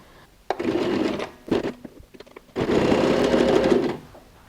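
Sewing machine stitching bias binding onto a handbag, two short bursts of rapid mechanical whirring followed by a longer steady run, close and loud with pauses between.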